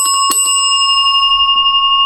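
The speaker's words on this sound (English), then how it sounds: "Bell just went off again." A bell rings out sharply once inside a reputedly haunted house, the Lizzie Borden murder house, leaving a long, clear metallic ring that slowly decays with no talk over it.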